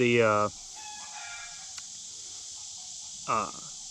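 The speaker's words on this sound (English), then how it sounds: "Chickens are acting up over there" A chicken's loud squawk rings out, then quiet steady background hiss, and a second shorter cackle a few seconds later, fairly close.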